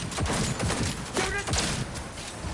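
Rapid, dense gunfire in a firefight in the Cyberpunk 2077 video game, loud overlapping shots in quick bursts with thuds running through the whole stretch.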